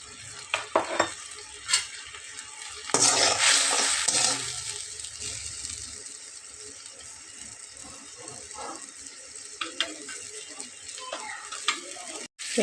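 Aloo sobji with green chillies frying in a pan, a continuous sizzle with a louder burst of hissing as ingredients go in, punctuated by scraping and clinking of a spatula stirring against the pan.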